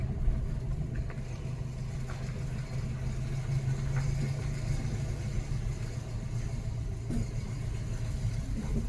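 A learner car's engine runs steadily during a driving lesson, a continuous mid-pitched hum with mild rises as the throttle is pressed, heard close and alone with no voices.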